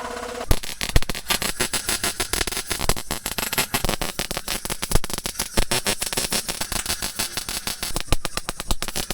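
MIG welding of a floor patch inside the cab of a Datsun 620 truck: a close, continuous sputtering crackle with dense rapid pops throughout, and no talking.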